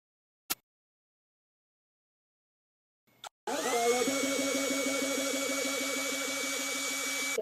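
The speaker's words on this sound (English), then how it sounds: "First punishment, drilling in your ear." A drill starts up after two brief clicks and whines loudly and steadily at close range with a high, sustained buzz and no talking.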